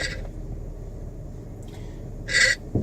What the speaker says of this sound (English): that's my alarm telling me to wake up.